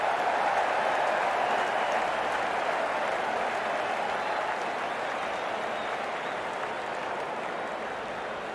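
Crowd applause at a cricket match after a boundary shot, a steady dense roar of clapping that holds evenly for the whole stretch with faint talk beneath.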